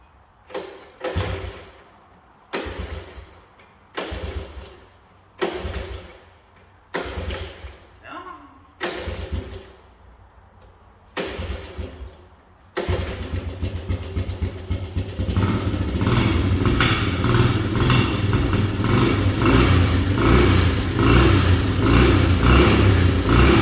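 A 125 motorcycle engine sputters through several short start attempts after fresh fuel, then catches and runs continuously, revving loudly and steadily near the microphone.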